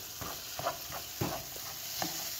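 A spoon stirs a Dominican egg dish with black pepper in a hot pan, soft repeated scraping strokes at an uneven rhythm over a steady low sizzle, quiet and close with no talking.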